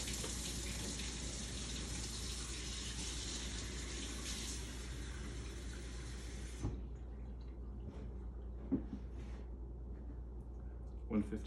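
Warm water runs steadily from a kitchen tap during home sourdough baking, a continuous close rush that cuts off partway through, followed by a few small clinks and handling sounds.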